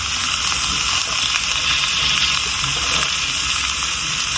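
Water poured steadily into a cooking pot outdoors while potato curry is being made, a continuous close, loud gushing and hissing stream with no break and no talk.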